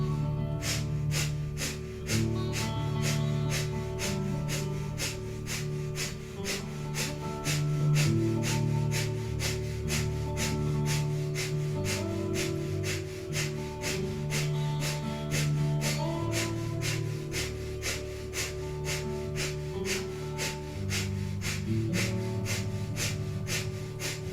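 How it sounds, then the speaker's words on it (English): Rapid, rhythmic nasal panting from Kundalini yoga breath of fire goes on continuously at about two sharp exhalations per second, layered over steady background music. "we will be here for 2 minutes with breath of fire. So panting like a dog through the nose"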